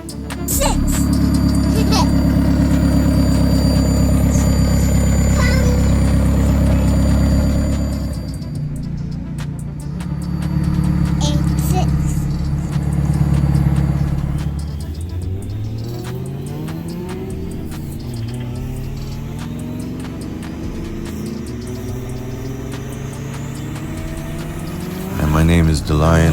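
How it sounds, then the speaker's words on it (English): Toyota AE86 Trueno with a turbocharged 2RZ engine, a loud close rumbling idle that rises and falls through revs, with a voice talking over it. "This is my Toyota AE86 2RZ Turbo."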